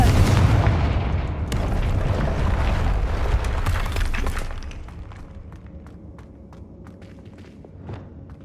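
In Hogwarts Legacy, a Confringo blasting spell erupts with a loud, rumbling explosion. The roar holds for several seconds, then fades into scattered faint thuds and crackles.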